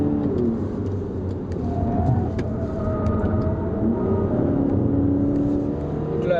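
A 2011 Audi Q3 2.0 TDI quattro diesel with an automatic gearbox drives through mountain bends. Its engine drones steadily from inside the cabin, with tyre and road noise, and no one speaks.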